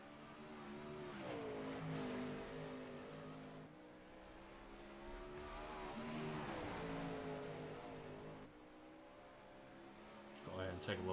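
410 sprint cars race around a track, their engines roaring steadily and rising and falling as they pass, with an announcer's voice talking over the din.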